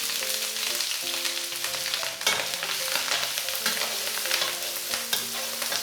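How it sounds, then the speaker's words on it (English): Minced garlic, shallots and dried shrimps frying in hot oil in a pan, a steady crackling sizzle with occasional stirring scrapes, close and continuous with no talking. "Heat 4 tablespoons of cooking oil in a pan. Add the minced garlic, shallots and dried shrimps."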